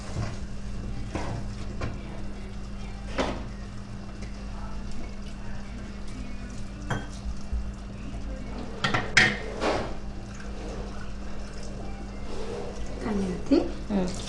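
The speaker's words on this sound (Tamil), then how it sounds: "தேங்காய் பேஸ்ட் அரைச்சதை ஊற்றிட்டு கிளறி விட்டுக்கோங்க." A spoon scrapes and knocks against a pan as ground coconut paste is stirred into chicken curry, intermittent clinks and scrapes over a steady hum, with someone talking at times.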